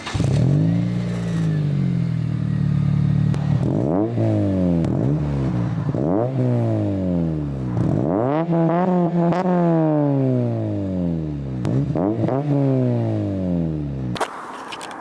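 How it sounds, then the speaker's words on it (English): A Honda Civic Si exhaust with Skunk2 headers revs repeatedly, pitch climbing and falling with each blip of the throttle, loud and raspy, ending in a long high rev. "that's what the exhaust sounds like with the Skunk2"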